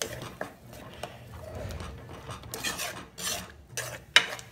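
A tomato and onion mixture is stirred in a pan, giving scraping, rasping strokes of a utensil against the metal with occasional clinks, close and moderately loud, no voices.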